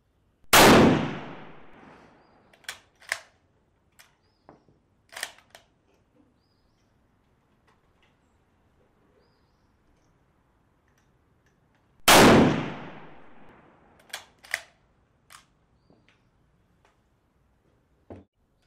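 Two loud, sharp gunshots from a Kar 98 bolt-action rifle firing cast bullets, spaced about twelve seconds apart outdoors, each followed by a ringing echo and small clicks and clanks of the bolt being worked.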